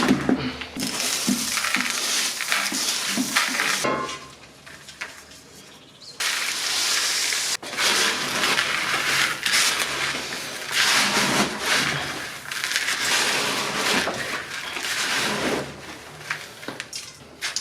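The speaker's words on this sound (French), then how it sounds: "Alors on va mélanger nos 3 éléments dans un seau." Dry cactus potting mix being stirred in a bucket, three components of soil and grit scraped and tumbled together in a steady, gritty rustle with short pauses, close and loud, with no talking.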